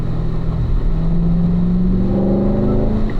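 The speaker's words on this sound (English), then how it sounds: "we're going to select 4th gear here as a group" Corvette race cars accelerate together on a track's inner straight in fourth gear. A steady, loud engine drone rises in pitch with overlapping tones from several cars.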